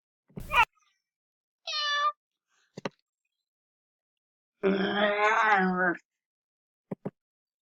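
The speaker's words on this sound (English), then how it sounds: "Has to be a cat." Cat meows from an animal guessing video game come in separate drawn-out calls, one long wavering yowl among shorter mews, alone and clear, with a few small clicks between them.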